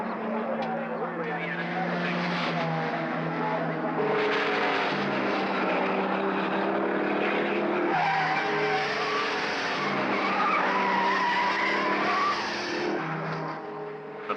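Race cars, including rotary-engined entries on Dunlop racing tyres, roar around the circuit at the 1971 Hardie Ferodo 500 at Bathurst, a loud, continuous, rising and falling engine drone.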